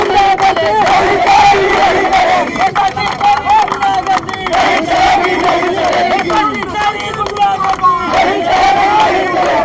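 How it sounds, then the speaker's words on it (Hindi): A large protest crowd outside a district hospital in Azamgarh chants slogans loudly and continuously, with overlapping shouting voices and some clapping in a dense, agitated din. "यहाँ पे बहुत लोग मुर्दाबाद के नारा लगा रहे हैं"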